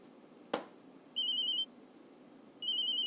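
A telephone rings twice in short electronic trills, with a sharp knock just before the first ring; the room is otherwise quiet.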